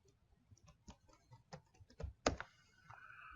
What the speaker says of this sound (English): I'm going to come in here and I'm going to type in Brad Traversy Flexbox Crash Course.